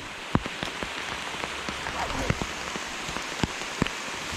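Heavy rain patters steadily on a rain suit, heard from underneath the fabric on a hiking trail in Oil Creek State Park, with dense hiss and sharp individual drop hits throughout.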